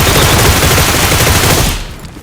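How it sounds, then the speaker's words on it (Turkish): A loud, rapid burst of automatic gunfire from a PUBG match, a dense continuous volley lasting nearly two seconds before cutting off abruptly, with no talk over it. "burada birkaç tane silah sesi duydum"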